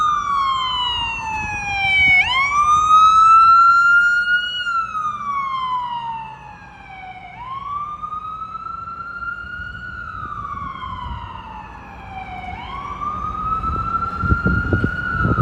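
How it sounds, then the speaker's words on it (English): An FDNY ambulance siren on a Midtown Manhattan street wails in repeated rising and falling sweeps. It sounds loud and fairly close against low traffic rumble, with no talk. "I've been noticing a lot of ambulance FDNY activity tonight specifically."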